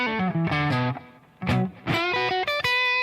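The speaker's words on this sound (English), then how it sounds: "So here's this Tube Screamer." An electric guitar on its neck humbucker runs through an Ibanez Tube Screamer pedal into a Spark amp, playing a lively pattern of overdriven picked notes and short phrases with brief pauses, close and clear.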